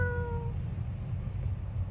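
A person's voice imitates a cat with one short meow at the very start, then only a steady low rumble of room noise remains.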